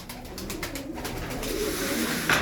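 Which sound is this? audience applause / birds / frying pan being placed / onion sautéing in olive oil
birds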